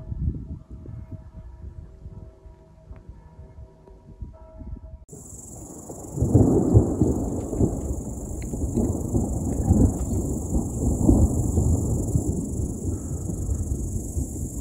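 An approaching storm brings low, rolling thunder rumbles that swell in uneven bursts, while a steady high insect or cricket chirring carries through the second half.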